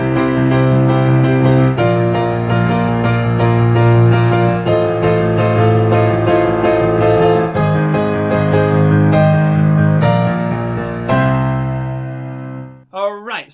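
Sustained rock piano chords played firmly in a rhythmic pattern, changing every couple of seconds, building to a final held chord that rings out and fades.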